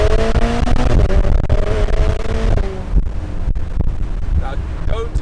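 A Ferrari Portofino accelerating hard on an open road, the engine note rising in pitch over a few seconds and then easing off, heard from inside with loud wind rush throughout.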